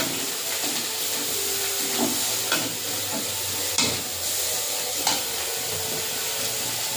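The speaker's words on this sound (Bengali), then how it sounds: "লঙ্কার গুঁড়ো দিয়ে মশলাটা কষে নেব" Spice paste with chili powder sizzles and fries in a pan for a Bengali fish curry, a steady hiss broken by a few sharp scrapes and clinks of a spatula stirring against the metal.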